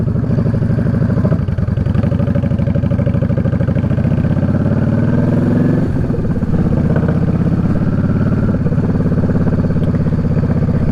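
Motorcycle engine running close and loud throughout, a steady mid-pitched rumble with a brief swell as a bike passes in traffic.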